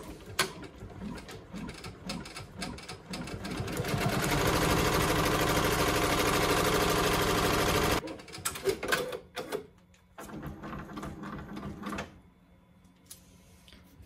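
A Ricoma EM1010 embroidery machine sews a satin stitch around a hat in the hoop, a loud steady mechanical whir for several seconds, framed by clicks, clatter and quieter machine movements before and after.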